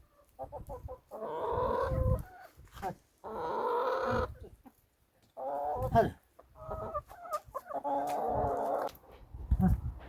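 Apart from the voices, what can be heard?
chickens clucking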